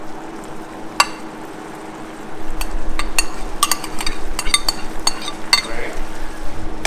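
Already cooked, colored rice is stirred and tossed in a frying pan with scattered metallic clinks and scrapes over a soft sizzle, the stirring growing steadier and busier as it goes on.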